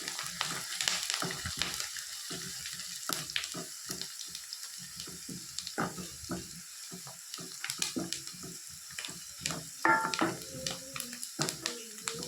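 Finely chopped curry leaves sizzle and crackle in hot oil in a pan while making ginger-tamarind curry (inji puli), a steady close frying hiss broken by clinks and sharp crackling pops.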